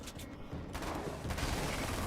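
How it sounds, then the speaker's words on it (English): Rapid SMG fire in the video game Alan Wake's American Nightmare sounds as a dense, continuous burst of overlapping shots, loud and close throughout. "Gunshots everywhere!"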